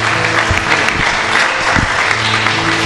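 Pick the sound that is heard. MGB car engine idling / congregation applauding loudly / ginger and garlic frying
congregation applauding loudly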